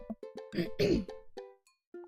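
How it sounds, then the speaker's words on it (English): A man clears his throat with a few short, gruff bursts, one heavier rasp in the middle, followed by brief hums, close and moderately loud with no words spoken. "I clear my throat and do my best cheesy announcer voice."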